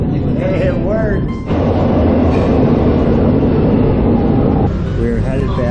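A Lisbon subway train fills the space with a loud, continuous rumble, and rising and falling motor whines come in at the start and again near the end.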